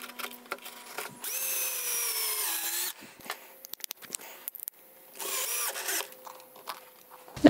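Power drill driving screws into a 2x4 wood window box, with a few rising whirring bursts of the motor and screw biting into wood, separated by short pauses and light handling clicks, close and fairly loud.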